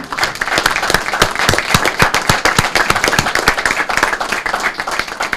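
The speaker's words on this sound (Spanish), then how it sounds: "un fuerte aplauso" Audience applause at a public address, loud and dense, with many hands clapping steadily and close throughout.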